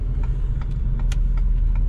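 A pickup truck towing a trailer rolls slowly into a lot, giving a close, steady low engine rumble with small knocks and clatter on top and no voices.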